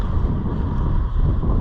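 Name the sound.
strong wind gusts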